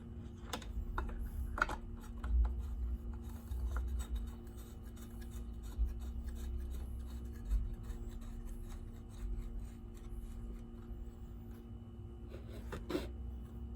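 Small plastic clicks, taps and scraping rubs as an air filter cover is fitted onto a Homelite chainsaw, quiet and close, with a faint steady hum underneath and no talking.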